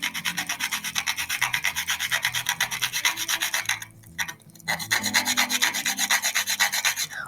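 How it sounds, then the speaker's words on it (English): Whole nutmeg rubbed on a fine hand grater made for nutmeg, a close, steady rasping in quick back-and-forth strokes, broken by a brief pause before the scraping resumes. "it's best to freshly grate it. You can use a fine hand grater made specifically for nutmeg"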